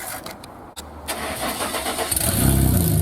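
Burnout car with straight-out extractors, engine cranking over then catching and running, growing into a loud, rough, close low rumble that builds toward the end.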